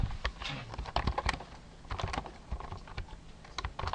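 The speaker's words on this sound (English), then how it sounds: "while I'm typing this out" Rapid, irregular keyboard typing, close by, with clicks of varying loudness continuing steadily throughout without pauses.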